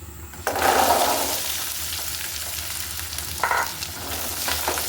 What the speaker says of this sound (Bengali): এই পর্যায়ে আমি রসুনগুলো দিয়ে দিচ্ছি।